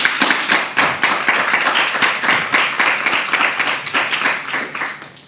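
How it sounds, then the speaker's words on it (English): An indoor audience at a formal gathering in Kano State breaks into dense, continuous applause, many hands clapping together at a lively, even level with no voices over it. "Can you all give yourselves a round of applause?"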